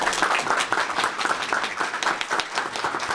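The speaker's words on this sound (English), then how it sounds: "Give them a round of applause, please." Crowd clapping at a police station ribbon cutting, a fairly small gathering with individual hand claps audible in a brisk, uneven patter that continues throughout.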